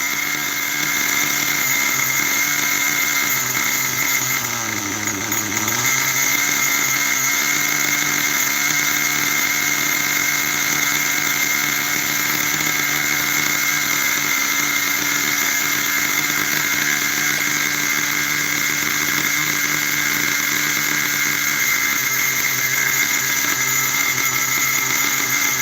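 A Big Red engine idles during break-in, holding a loud, steady drone with a constant whine, briefly dipping in pitch around a few seconds in, then running evenly again without talk.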